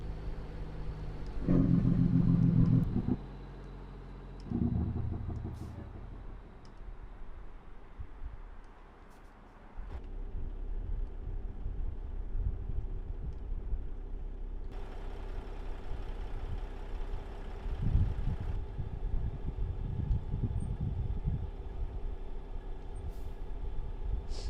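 A Kenworth truck with a Pittsburgh Power N14 engine in American Truck Simulator opens with a loud burst of engine noise, drops briefly, then settles into a steady low diesel rumble that swells and eases with short hissing bursts.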